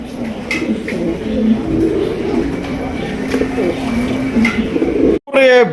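Pigeons coo steadily in low, repeated throaty calls close by, with a voice speaking over them and a brief chirpy burst near the end.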